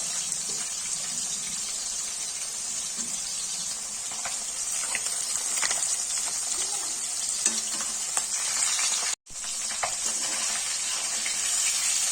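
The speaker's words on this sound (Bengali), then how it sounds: "হয়ে গেছে মাছ ভাজা এবার তুলে নেব" Fish fries in a pan for a fish curry with potato and drumsticks, giving a steady, dense oil sizzle throughout, close and even, with a brief cut near the end and no talking.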